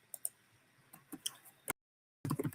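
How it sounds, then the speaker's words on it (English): Quick keyboard typing during a live chat, sparse light clicks and taps in short irregular bursts, close and quiet, with a brief silent gap before a final cluster of keystrokes. "Just typing in the chat real quick."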